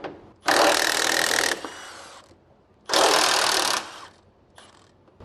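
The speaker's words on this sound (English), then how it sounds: "First, we have 2 18mm nuts we're going to remove right here." A power tool removing 18mm nuts from a Silverado truck rear bumper, two loud bursts of about a second each with a whirring, ratcheting rattle and quiet gaps between them, close by with no talking.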